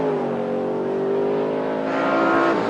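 A fire truck in a 1977 firefighting competition drives up and slows to a stop, a loud, steady engine drone with shifting pitch as it decelerates, close by and with no talk over it.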